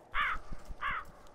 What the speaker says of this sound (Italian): Dannati corvi non sono spaventati dello spaventapasseri.